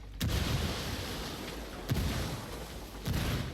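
Frag grenade blasts in Ghost Recon Wildlands: three sharp, booming explosions spaced about a second and a half apart, each trailing into a rumbling roar of combat noise.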